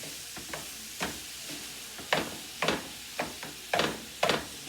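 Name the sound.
chopped meat, onions and garlic frying and being stirred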